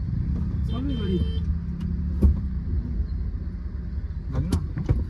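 A new car's engine runs with a low steady rumble, and voices can be heard talking over it at close range.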